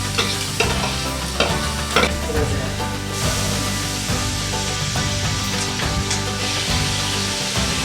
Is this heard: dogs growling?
no